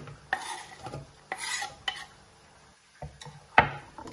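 Onion slices drop into a cooking pot in a few separate soft thumps and rattles, spaced apart with quiet gaps between them.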